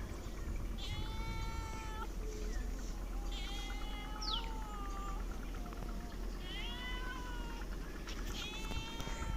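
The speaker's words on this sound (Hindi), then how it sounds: "मोटी ताज़ी ये बिल्ली होती थी" A thin, black cat meows repeatedly, several drawn-out cries spaced across the clip, close and clear over a steady low background noise.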